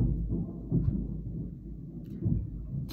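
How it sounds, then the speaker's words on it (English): Low rumbling thunder rolls through the whole stretch, swelling in a few heavy surges before fading back to a steady growl, with no voices over it. "Cue the freaking thunder."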